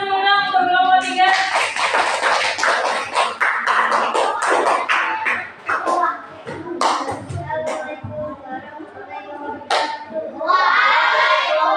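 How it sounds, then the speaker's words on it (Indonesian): Children in a classroom clap for a group in a dense, lively burst that runs for several seconds, with a voice heard at the start and with scattered chatter and shuffling as the applause thins out. "Tepuk tangan dulu untuk kelompok 3."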